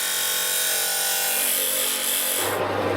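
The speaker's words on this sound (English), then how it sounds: "we have to cut off 80mm of the shaft to make this shaft symmetrical" A 30mm steel shaft being cut with a power tool, a steady loud grinding, rasping whine that continues unbroken and shifts lower in tone near the end, with no talk.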